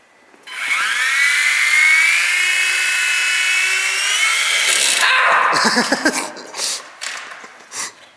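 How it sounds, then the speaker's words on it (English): A small radio-controlled model helicopter's high-pitched motor whines steadily and loudly for several seconds, then wavers and fades into scattered clatter. "so that's the helicopters, the big for serious helicopter and the little baby helicopter."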